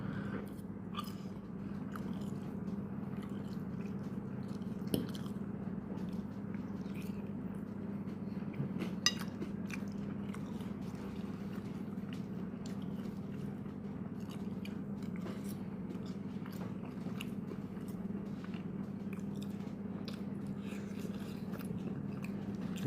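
Pasta being chewed close up, with soft, steady mouth sounds over a constant low hum and occasional small clicks, and no speech.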